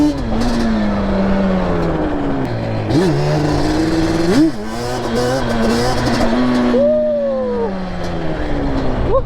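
Two-stroke Yamaha Banshee 350 ATV being ridden up close, its engine revving and wailing through repeated throttle surges and pitch swings, loud and raspy, with short drops between pulls.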